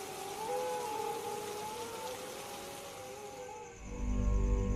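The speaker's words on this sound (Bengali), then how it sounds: "বাইরে এত বৃষ্টি হচ্ছে" Heavy rain hisses steadily outside in a cartoon scene, a dense wash of noise under a wavering wailing tone, ending in a louder low rumble.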